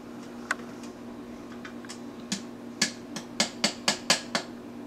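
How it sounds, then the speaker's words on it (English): Plastic cap of a slush mug being unscrewed, heard as a run of sharp ratcheting clicks that start sparse and speed up into a quick, evenly spaced series, close and clear against quiet room tone. "Now you unscrew the cap."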